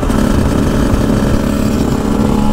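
A motorcycle engine idles steadily up close, a low rumbling drone with a strong tonal hum that holds constant throughout.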